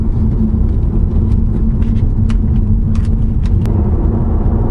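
A car cruises along a four-lane highway in summer, its steady road rumble and engine drone continuous and close throughout, with faint intermittent ticks and clicks over the top.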